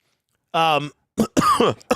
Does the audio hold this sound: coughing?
yes